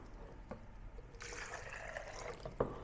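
Water pours into a bucket while pesticide is being mixed, a faint, close splashing trickle that starts suddenly and runs for about a second, with a small knock near the end.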